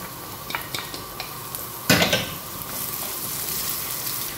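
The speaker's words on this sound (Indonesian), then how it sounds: "Goreng bawangnya dulu, tuangkan minyak zaitun sekitar 2 sendok ya." Steady sizzling of onions frying in hot olive oil, with a few light clinks and a louder scrape of stirring partway through.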